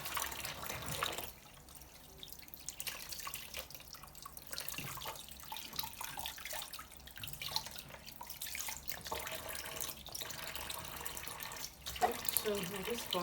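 Peeled beans for akara or moimoi being rinsed under running water in a kitchen, a steady tap-and-sink splash with light dripping and sloshing that continues throughout at moderate level.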